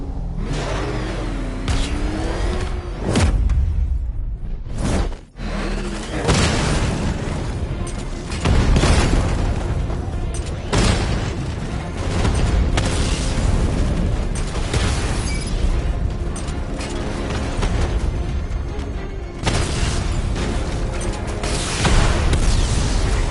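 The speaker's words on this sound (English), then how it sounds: "Your 60mm cannon will penetrate these heavily armored units, but it'll take a few direct hits to destroy them." Batmobile's 60mm cannon firing, with explosions and heavy armored vehicle sounds in the Batman Arkham Knight video game: loud, dense booms and mechanical rumble run continuously throughout with no speech.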